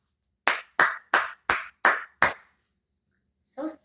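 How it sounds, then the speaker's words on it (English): Six sharp, evenly spaced hand claps from a single person in a quiet room, close and clear, followed by silence and a brief voice at the end. "Round of applause."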